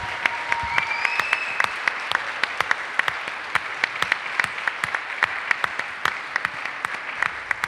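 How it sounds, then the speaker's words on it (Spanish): A church congregation applauds during a Spanish-language service, with sustained clapping and sharp, distinct individual claps standing out, and a brief whistle or cheer near the start. "Dale un aplauso al Señor."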